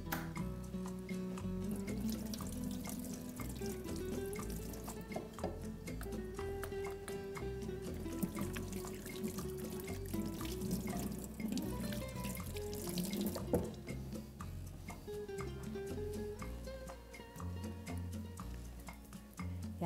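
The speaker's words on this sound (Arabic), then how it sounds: "اغسل ايدي بس." A kitchen faucet runs steadily into a sink while hands are washed, a continuous rushing spray with small splashes shifting under it, close and moderately loud.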